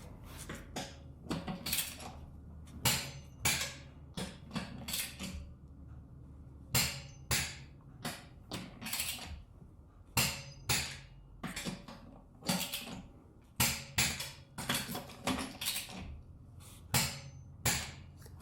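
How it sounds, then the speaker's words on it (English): Torque wrench tightening wheel bolts on a BMW E90 to 85 foot-pounds, producing a series of sharp metallic clicks and ratcheting snaps in uneven rhythm, close and distinct with no talk. "We have our torque wrench set to the factory specified 85 foot-pounds."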